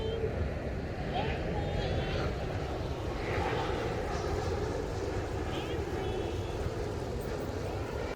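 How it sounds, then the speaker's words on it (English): Airliners flying low on approach into Singapore airport, a steady broad jet-engine roar held close and fairly loud throughout, with faint talk underneath. "we had a nice close view of all the airplanes flying into Singapore."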